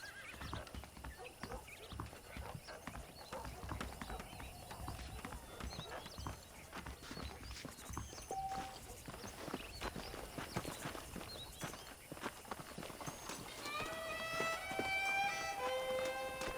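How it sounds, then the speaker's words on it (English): Horses clip-clop along at a trot with a whinny rising near the end, set against a busy background of game-like ambience and voices, from Red Dead Redemption. "The horses are saddled up over here."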